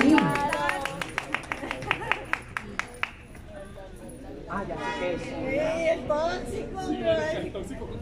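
An audience at a mariachi anniversary celebration claps in a steady, even rhythm for about three seconds, then the clapping gives way to lively voices and chatter.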